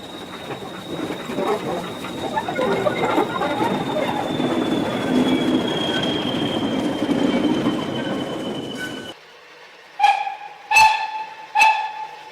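Hudswell-Clarke 0-6-0 steam locomotive heading to Haworth, heard as a steady rumbling run of train noise with a long high squeal for about nine seconds, then three sharp separate whistle-like blasts after it stops.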